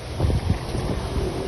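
Strong gusty wind rumbles and buffets the microphone in a low, blustery roar, with no other sounds standing out.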